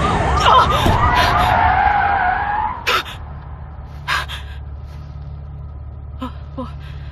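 A car skids hard with a long tyre screech, followed by a sharp thud of impact, then quieter knocks and a low rumble as the scene settles, with a gasp and voices nearby.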